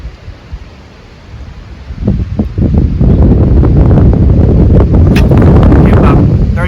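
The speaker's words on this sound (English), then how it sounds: "There's that wind blowing this way." Strong wind blows across a lake while fishing on a windy day, first as faint gusts and then as a loud, close roar of buffeting against the microphone, with some rustling, and no voices.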